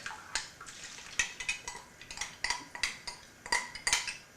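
A spoon scrapes and knocks against a bowl while fig cookie filling is stirred, a run of close, irregular clinks and scrapes spaced about every third of a second.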